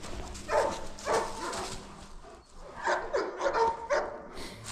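A dog barks and yips in short bursts, a couple of quick barks, a pause, then several more, fairly close and moderately loud with some whimpering mixed in.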